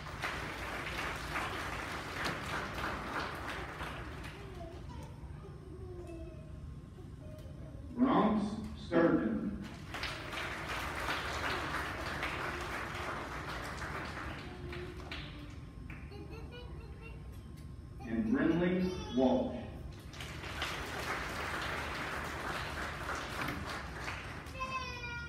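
Steady audience applause fills a kindergarten graduation ceremony honoring perfect attendance award winners, a dense moderately loud patter lasting throughout, twice briefly interrupted by a speaking voice and children's chatter before the clapping swells again.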